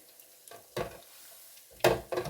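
Fish fingers frying in a pan, heard as short bursts of sizzle and scraping that come and go over quiet gaps as the pan is shaken.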